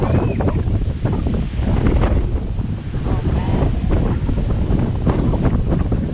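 Strong rainy-season wind on Boracay island buffets the microphone with a constant heavy roar, and someone exclaims briefly over the gusts.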